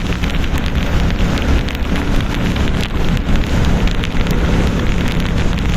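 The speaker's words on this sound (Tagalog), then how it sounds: "Umuulan-ulan." Steady rain during Typhoon Kristine in Baguio, a dense, continuous hiss of drops pattering on surfaces, loud and close, with gusty wind layered underneath and no voices.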